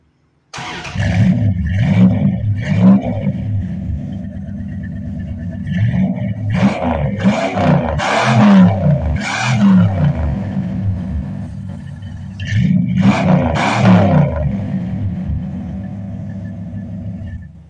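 A 1986 Dodge with a one-in, two-out Flowmaster imitation muffler starts up and rumbles loudly at close range, revving in several bursts over a steady idle, with no voices.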